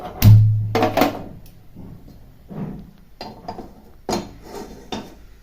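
A metal wok is set down on a gas stove with a sharp clank, followed by several lighter clinks and knocks of pots and utensils spaced out over a few seconds, close by and with no talking.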